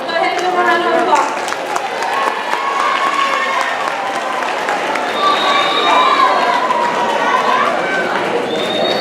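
Applause and cheering from a school crowd at a house meeting honoring the A honor roll, clapping mixed with shouts and chatter, with voices calling out over it, loud and sustained.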